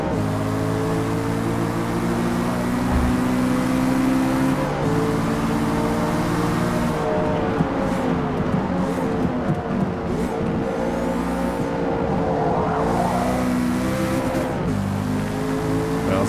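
Racing car engine in Forza Motorsport (2023), droning loudly and continuously with steady harmonic tones, shifting pitch as the car accelerates and drafts in a slipstream, with brief whirring and tire noise over the engine.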